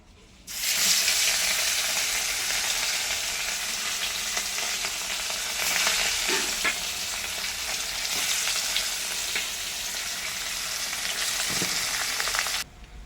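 Fish frying in hot oil in a kadai crackles and sizzles loudly and continuously, starting abruptly and holding steady for about twelve seconds before cutting off, close up with no speech.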